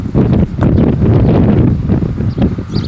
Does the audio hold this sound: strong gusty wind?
yes